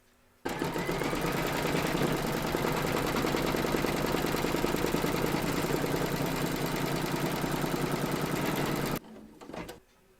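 An embroidery machine stitches an applique held in a hoop, a loud, rapid, steady mechanical chatter that runs for about eight seconds and then stops abruptly.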